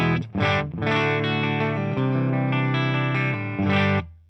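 An electric guitar played on the clean channel of a Marshall TSL 100 JCM 2000 amplifier, miked with an SM57, with a few short strums and then long sustained chords ringing out with some reverb.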